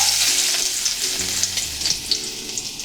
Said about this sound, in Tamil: இப்போ அந்த எண்ணெயில் வந்து ஒரு 3 பல் பூண்டு பொடியாக நறுக்கி வச்சுருக்கேன்.